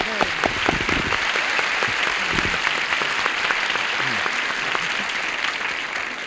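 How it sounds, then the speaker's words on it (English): A 1976 television game-show studio audience applauds steadily, a close, dense wash of clapping that holds at an even level throughout with a few sharper claps near the start. "even the bananas and the reds applauded for that"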